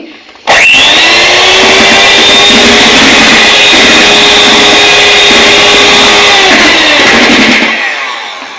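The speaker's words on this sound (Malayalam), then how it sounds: "ജസ്റ്റ് ഫസ്റ്റ് സ്പീഡിലിട്ട് ജസ്റ്റ് ഒന്ന് ഓയിൽ ആ ബാറ്ററിലേക്ക് മിക്സ് ചെയ്യാൻ മാത്രം മതി" Electric hand mixer running on its lowest speed, mixing oil into cake batter: a loud, steady motor whir that starts abruptly, holds an even drone with slight pitch dips, then cuts off and fades.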